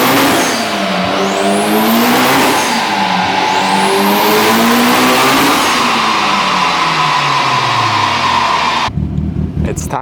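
A Mitsubishi Evo X with a custom fuel kit revs hard and accelerates through repeated rising and falling gear sweeps, loud and close, before the engine note cuts off abruptly near the end.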